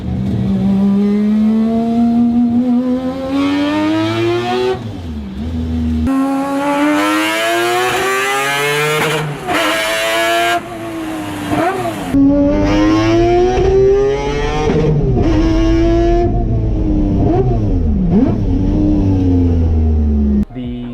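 A naturally aspirated three-rotor 20B rotary engine in a Mazda RX7 with individual throttle bodies revs hard toward 10,000 RPM, its loud buzzy wail climbing and dropping through repeated sweeps.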